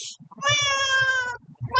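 A gray cat lets out one drawn-out, clear meow close by, preceded by soft shuffling and followed by the start of another meow.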